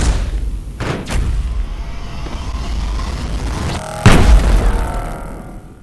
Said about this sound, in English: the moment the explosion was created, it damaged everything within the radius of the explosion